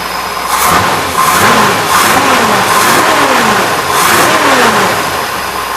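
A 1961 Oldsmobile 394 V8 with a four-speed runs loud and close, repeatedly revving up and settling back down in steady rising-and-falling pulls through a short exhaust.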